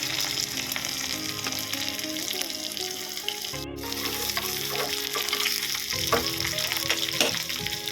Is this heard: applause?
no